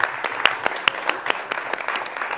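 A small audience at a cycling-city meeting claps briefly, a few sharp distinct hand claps scattered over a couple of seconds, close and fairly loud with no talk.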